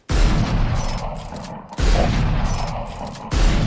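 Chamber's heavy sniper rifle fires three slow, booming shots in Valorant, each a loud blast with a long echoing tail, spaced well apart with a mechanical clack between them and no talking.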